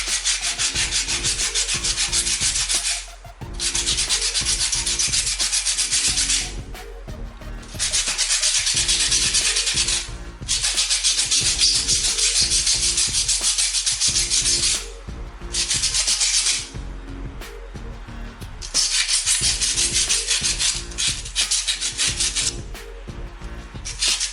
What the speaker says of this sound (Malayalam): ഫോയിൽ വെച്ച് നമുക്കിതുപോലെ നല്ലപോലെ ഉരച്ചു കൊടുക്കാം.